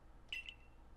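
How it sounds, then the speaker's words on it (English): Electronic beeping from the Arc phone in Pokémon Legends: Arceus: a short pair of high, thin beeps, the first longer than the second, fairly faint over a quiet background. "But the Arc phone is beeping."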